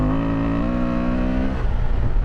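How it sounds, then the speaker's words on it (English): A motorcycle on a first ride, either an XL750 Transalp or KTM 890 Adventure R, accelerates with its exhaust flap opening, a loud, close engine drone rising steadily in pitch, then turning rougher and more crackly toward the end. "It's got like a flap in the exhaust that opens."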